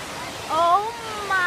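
Rushing river water and a waterfall make a steady, full roar throughout, with excited voices calling out over it.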